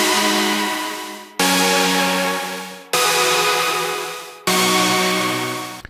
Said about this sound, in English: To make the lovely supersaws that you're hearing